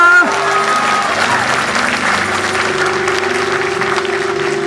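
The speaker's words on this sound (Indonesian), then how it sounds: "Tepuk tangan bagi janji firman Allah." A church congregation at a large revival service in Mamasa breaks into sustained applause. The clapping is full and steady throughout, with sustained musical tones underneath.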